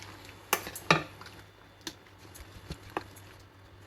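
Bitter melon leaves tossed into sautéed mung beans (ginisang monggo) in a pan, with a few distinct metal utensil clanks against the pot and soft stirring scrapes over quiet background hum.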